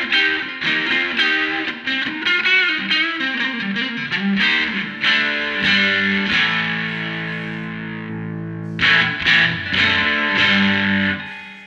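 An Epiphone Zephyr electric guitar played through a transparent overdrive pedal rings out in a run of picked notes and sustained chords, loud and close, with a brief pause before a fresh burst of strummed notes near the end.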